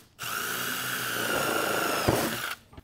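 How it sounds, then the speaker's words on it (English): A power drill fitted with a step bit bores a hole, giving a steady high whine for a couple of seconds. The whine is close and loud, ends with a brief clunk, then stops abruptly. "take that step bit, drill a little hole here."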